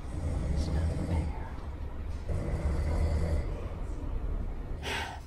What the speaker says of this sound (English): This guy is snoring really, really loud.